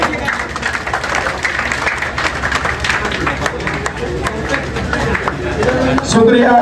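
An audience at a political rally claps for an honoured assembly candidate, a continuous, dense patter of applause with crowd noise beneath it and a louder swell near the end.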